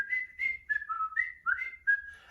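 A person whistles a wavering melody of short rising and falling notes, clear and close, with nothing else heard.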